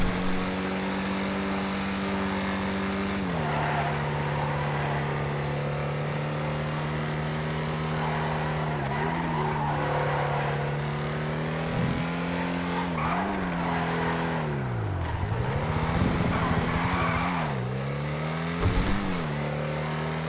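Engine of a car in a video game test ride, droning steadily with rising and falling pitch as it accelerates, brakes and turns, with tyre skids and squeals near 13 and 15–19 seconds; no talk.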